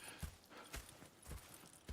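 Horse hooves clip-clop in Red Dead Redemption 2 around the town of Valentine, a few separate soft thuds spaced irregularly, close and moderately quiet, with no talk over them.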